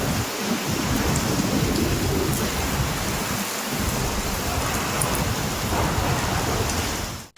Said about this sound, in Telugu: ఉరుములు, మెరుపులతో ఆకాశానికి చిల్లు పడిందా అన్నట్లుగానే వర్షం పడింది.